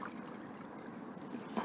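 Water poured into a container to mix Bordeaux mixture, a steady soft trickling and splashing stream, continuous and close.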